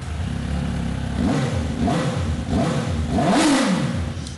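An MV Agusta F4 sports motorcycle engine revs hard in several rising and falling bursts through organ-pipe exhausts, loud and close, the throttle blipped repeatedly over a steady idle.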